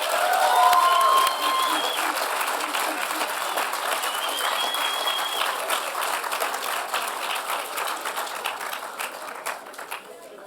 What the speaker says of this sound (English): Let's give a round of applause for all of the PPC awardees.